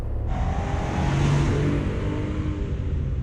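A Suzuki Jimny kei car's three-cylinder turbo engine lugging at low speed in second gear, a steady low drone with mild road noise, close and continuous.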